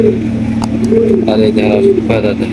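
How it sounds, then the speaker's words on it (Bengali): Pigeons of a fancy show breed coo in soft, throaty, rising-and-falling calls, heard close up with a low steady hum underneath and a few faint chirps. "এখানে রয়েছে 2 জোড়া রাসগোল্লা কবুতর, 2 জোড়া আপনার চুইঠাল"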